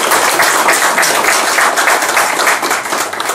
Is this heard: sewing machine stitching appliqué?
no